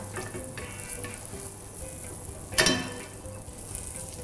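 Butter sizzles in a hot frying pan for making crepes, a steady close crackle with one brief metallic clatter midway.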